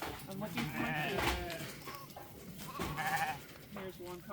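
Sheep bleat repeatedly in a ranch sorting pen, several overlapping calls near and far against a low background, while a person talks intermittently.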